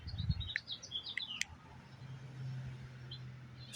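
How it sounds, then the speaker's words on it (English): Several high, quick chirps from a bird calling outdoors, clustered in the first second and a half, fairly faint over a low steady hum and background rustle. "Bird just got amplified."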